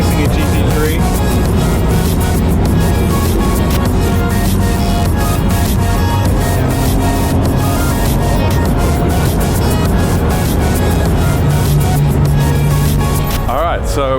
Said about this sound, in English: Especially doing 150 chasing a GT3.